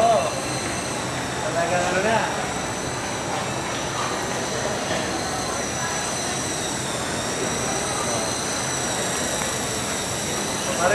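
RC coaxial model helicopters flying outdoors, including R22, Comanche and Kestrel Mini 500 models, give a constant high-pitched whine with a steady drone under people chatting nearby.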